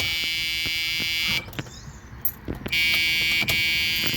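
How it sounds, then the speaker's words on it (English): A 1981 Cadillac Seville's key-left-in warning buzzer sounds continuously, high-pitched and electronic, cuts out for about a second, then resumes just as loud and steady. "That's to tell me I left the key in."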